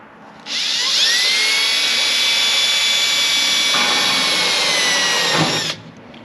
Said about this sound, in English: I'm going to run the drill. It'll drill in just a bit